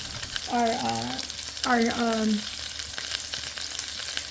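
Salisbury steak patties browning in hot frying oil, a steady close sizzle and spatter running throughout, with two brief voiced sounds rising above the frying early on.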